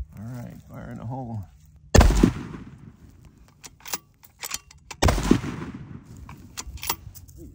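Two sharp rifle shots fired with Winchester white box ammunition at an outdoor range, each a loud crack followed by ringing echo and scattered clatter, spaced about three seconds apart after a brief spoken warning.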